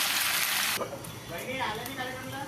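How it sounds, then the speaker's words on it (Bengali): Potatoes sauté with spices in a pan for aloo dum, a loud hiss that cuts off abruptly and settles into a softer sizzle while someone talks over it. "এখন দেখো কষাচ্ছি মশলা দিয়ে"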